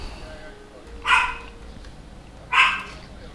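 Two sharp single dog barks about a second and a half apart, fairly close, over a low steady background hum.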